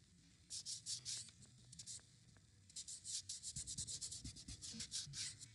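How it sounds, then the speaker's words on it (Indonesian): Eraser rubbing back and forth across a whiteboard-style writing surface during a math lesson, a close, quiet series of short scrubbing strokes that quickens into a rapid rhythmic run in the second half, with no talk. "saya hapus sebentar"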